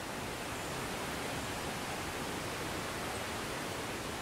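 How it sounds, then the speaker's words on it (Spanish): Iguazú Falls roaring as a massive volume of water pours down, a steady, dense wash of noise that holds evenly throughout with no other sounds. "Escucha cómo caen esos 2 millones de litros de agua por segundo."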